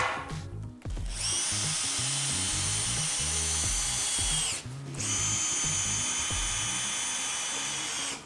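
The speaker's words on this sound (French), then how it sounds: "Je vais visser la planche supérieure ici comme ceci." A power screwdriver drives screws into a board while aluminium window frames are fitted, a loud steady whirring run with a brief pause midway before whining on again, heard alone and close.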